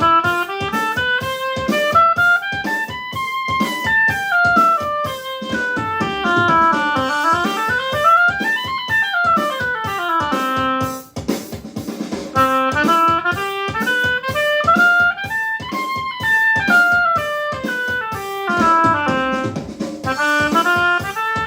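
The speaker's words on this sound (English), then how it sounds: "I enjoy putting on various backing tracks when doing these exercises" An instrument plays practice exercises, repeated scale-like patterns rising and falling over a steady rhythmic backing track, clear and continuous with a short break midway.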